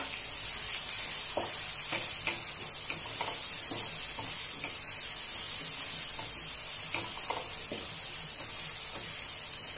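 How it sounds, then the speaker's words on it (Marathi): Onion frying in oil while being stirred, a constant loud sizzle broken by repeated scraping strokes of the spoon at an uneven rhythm, with no voice over it. "कांदा छान लाल परतवून द्यायचा आहे आपल्याला."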